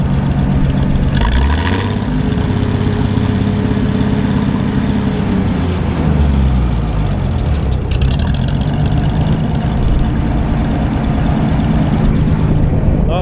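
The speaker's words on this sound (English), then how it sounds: "The old engine sounds pretty good." The engine of an old Gleaner A combine idles steadily and loud up close, a constant low rumble with slight shifts in pitch and no talk over it.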